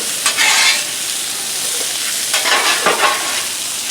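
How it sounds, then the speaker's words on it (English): Potatoes frying loudly on a hot Blackstone griddle where bacon was just cooked, a steady close sizzle with occasional spatula scrapes and stirring bursts, no voices. "I'm going to slide the potatoes down where the bacon was to"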